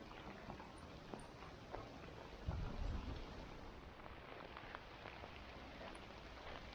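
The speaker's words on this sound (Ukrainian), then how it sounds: "Дощ почався солідний." Steady heavy autumn rain hisses across everything, with a brief low rumble swelling in the middle; no voices.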